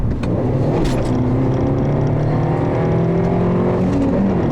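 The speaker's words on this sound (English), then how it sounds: "When I stab the throttle, I wanted to instantly put the revs up, and it doesn't really do that for you." A 2012 Fiat 500 Sport's small engine revs on a test drive, loud and close, with rising and falling engine tones as the throttle is stabbed and released.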